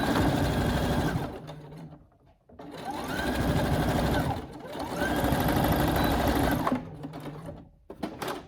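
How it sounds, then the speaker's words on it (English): Sewing machine stitching a gap closed in a lace scrunchie: steady, close mechanical whirring in three long runs separated by brief pauses, with a short burst at the end. "And then it's just a matter of coming back to your machine and sewing that little gap."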